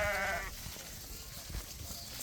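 A single sheep bleats clearly at the start in a flock of ewes and lambs, then a farmyard murmur of distant animals and faint noise continues.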